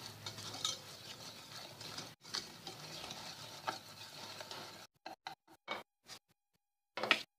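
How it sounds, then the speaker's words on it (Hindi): Flour for cumin biscuits being stirred into dough, with a steady soft scraping and stirring sound, close and quiet, that breaks into a few short separate strokes toward the end. "थोड़ा थोड़ा करके हम मिलाएंगे, सबको एकदम से नहीं मिलाएंगे सारा मैदा।"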